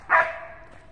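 A single dog bark at squirrels up in the trees rings out close and loud, then trails off into a faint whining tail with no one talking.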